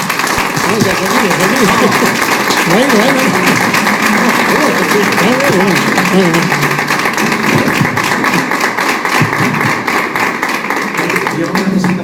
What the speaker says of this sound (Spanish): Yo pido un fuerte aplauso para José Antonio